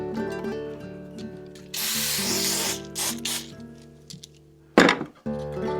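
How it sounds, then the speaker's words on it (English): Spray rinsing a bicycle rear derailleur on a vintage Raleigh Mixte, a hissing blast running under a steady mechanical hum for about a second, then a later short burst with clinks. "since I'm gonna go rinse off the rear derailleur, I might as well do this one too."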